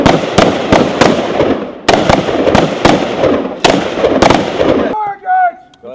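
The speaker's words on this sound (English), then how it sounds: "Go ahead and fire." Rapid semi-automatic rifle fire at an outdoor Marine Corps shooting range: a loud, close string of sharp cracks in uneven bursts lasting several seconds, then a brief pause with a voice speaking.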